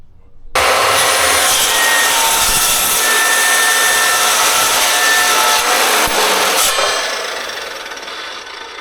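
A cold-cut saw cuts metal for a camper trailer wall, a loud, continuous grinding rasp that starts abruptly and holds steady for about six seconds before tapering off as the blade slows.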